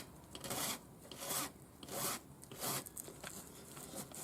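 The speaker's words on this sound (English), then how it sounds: "I'm going to file this end flat" A metal file rasps across the cut end of a thin ring wire held in the fingers, in about five steady strokes with short pauses between them, close and clear, with no talk.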